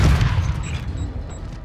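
A grenade blast in Call of Duty: Modern Warfare II multiplayer, a loud low boom at the start that rumbles and decays over the following second and a half amid ongoing battle noise.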